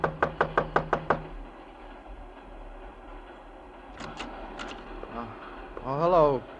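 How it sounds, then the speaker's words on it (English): Knocking on a door in an old-time crime radio drama: six sharp, evenly spaced raps close by, followed by quieter room sounds and brief voices afterward. "Just knock on the door."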